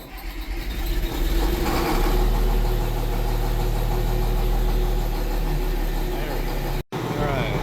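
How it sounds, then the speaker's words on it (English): A Case 2590 Powershift tractor is being started for a hydraulics repair and service. It cranks and catches, then settles into a loud, steady, rumbling diesel idle with low vibration, close by, under some brief talk. "Alright, tractor's running."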